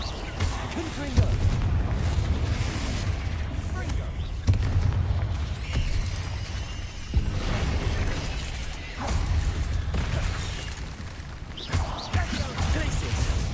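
Repeated Confringo blasting-spell explosions in the Hogwarts Legacy video game, loud booming impacts over a dense, continuous bed of combat noise and game music, with a voice talking now and then.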